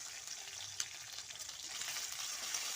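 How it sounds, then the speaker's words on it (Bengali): Chopped ginger fries in hot oil while being stirred for a vegetarian jackfruit curry, a continuous close sizzle with scraping stir strokes and one sharp clink partway through. "দিয়ে আমি আদাটাকে একটু ভালো করে নেড়ে নিচ্ছি তেলের মধ্যে।"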